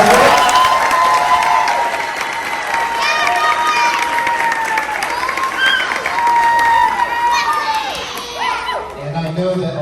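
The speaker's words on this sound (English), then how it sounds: "How about one more round of applause for the children?" Sustained audience applause and cheering for children at a school performance, dense clapping from a large crowd close by, steady for the full length with scattered shouts.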